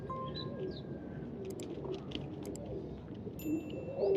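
Teddy Ferozpuri pigeons coo softly in a loose, overlapping chorus under a mild outdoor background hum, with a few faint chirps from other birds scattered through.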